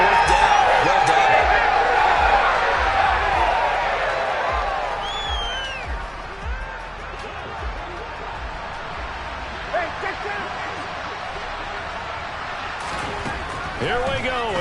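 A football stadium crowd roars and applauds the defense, loud and broad at first then easing, with a commentator talking over the noise.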